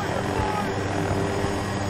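A Battlefield 2042 helicopter drones steadily with a thick, continuous rotor and engine roar that fills the whole stretch, close and loud, with game sounds mixed in.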